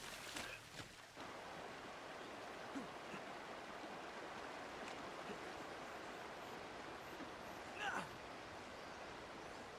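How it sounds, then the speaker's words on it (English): Steady rushing water of a waterfall in the video game Uncharted: Drake's Fortune, a continuous broadband roar at even level for the whole stretch, with a brief brighter splash near the end. "Behind the waterfall."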